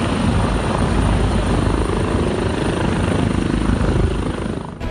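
A T-625 general-purpose helicopter's rotor thumps loudly and continuously, a dense, close roar with no voices, fading slightly at the very end.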